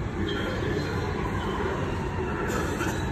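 A London train running between Canary Wharf and Stratford gives a steady, loud rumble of wheels and motor, with a thin high whine over the top and no break in the sound.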